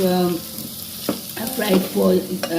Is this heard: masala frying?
yes